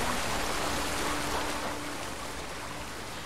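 A waterfall in the video game Rime pours steadily, a broad even rush of falling water with a faint tonal hum underneath, easing slightly in level toward the end.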